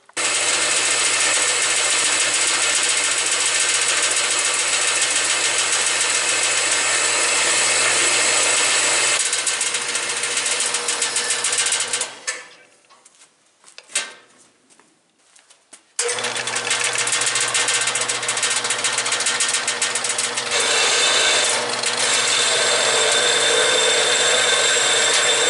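A power cutting tool slices an old metal weight bracket out of a Deere 400 tractor, a loud continuous buzzing grind that drops out briefly partway through, then resumes and runs to the end, with no talk.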